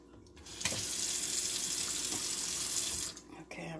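Water from a kitchen faucet rinses salad tongs, a steady close hiss of running water for about two and a half seconds before shutting off, followed by faint clatter.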